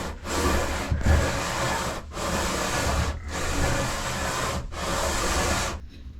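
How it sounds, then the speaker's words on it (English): Wood being sanded with sandpaper wrapped on a small sanding block, five steady back-and-forth scraping strokes with brief gaps between them, close and loud with no voices. "let's put some sandpaper on that and see what it looks like."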